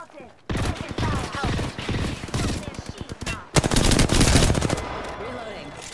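Rapid machine gun fire in a video game rips out in loud, sustained bursts, stopping briefly before a second heavy volley, with a voice speaking over the shooting.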